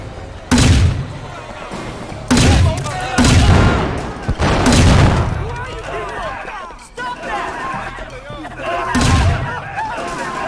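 Bursts from a smoke bomb launcher go off during a Sleeping Dogs shootout at New Year, several loud booming blasts a couple of seconds apart with voices talking over the chaos.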